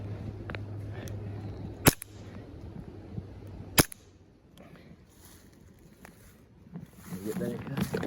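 Two sharp airsoft gun shots fired several seconds apart during a one-on-one outdoor airsoft match, crisp and close, with heavy breathing and movement noise around them.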